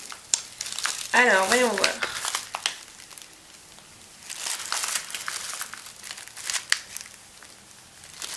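A tea packet is opened with crinkly plastic rustles and crackles in short bursts, close and fairly quiet, while someone speaks French briefly at the start.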